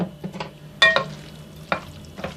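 Boiled manti dressed with sunflower oil being stirred in a bowl, giving a few soft, wet scraping and clinking strokes close by with no talking.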